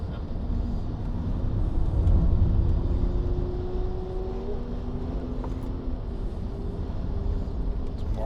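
V12 BMW E38 750iL driving on a road with other cars behind, a steady low engine drone with a rising whine that climbs through the gears.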